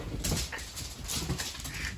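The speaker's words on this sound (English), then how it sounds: "the puppies are chasing each other" Puppies whimper and yelp softly amid scuffling and rustling movement, a busy, close-up jumble of small playful sounds.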